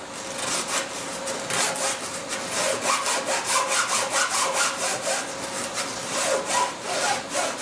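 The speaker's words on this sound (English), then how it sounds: "I like to sand this edge. This is my inside flange while it's still in the mold." Steady rhythmic rasping of sandpaper drawn back and forth along the inside flange edge of a molded tank still sitting in its mold, close and continuous with no talking.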